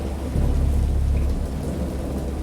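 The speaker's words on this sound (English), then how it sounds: "I know that I heard pearls of thunder and other tones which nature utters only in her wildest moods." Audiobook storm effect: a deep rolling thunder rumble swells and fades over steady heavy rain, loud and close, with no voices.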